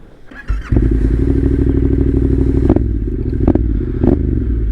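A 2021 Yamaha Tenere 700 adventure bike fitted with a Black Widow full exhaust, riding off-road: a loud, close, steady engine drone with a throaty exhaust note, gravelly clatter and scraping underneath, and a couple of brief revs or bumps toward the end.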